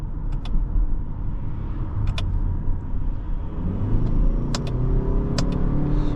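A 2026 Lexus ES350h hybrid sedan accelerates on electric motors, heard from inside as a smooth low rumble and road noise that swell gradually, with a few faint clicks and no talking.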